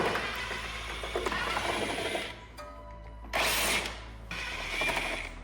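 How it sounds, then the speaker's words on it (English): A ratchet wrench removes the 10 mm nuts on a 2014-or-later third-generation MINI Cooper's rear shock, making rapid clicking ratchet bursts separated by short pauses, close and moderately loud, with no talking. "we're going to remove the nuts that secure it around the rear shock here"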